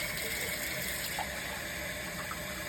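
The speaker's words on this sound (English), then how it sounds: "When you're filling pebbler number 1, that pebbler is going to be filled with essentially room temperature water." Room-temperature water, mixed from hot and cold, gushes steadily from a hose into the tank of a curling pebbler, a continuous close splashing rush that holds an even level throughout.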